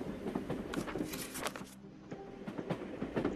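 Rumbling carriages of a moving train in the video game House of 1000 Doors, a steady rolling clatter with rhythmic wheel thumps, briefly easing then continuing, no voices.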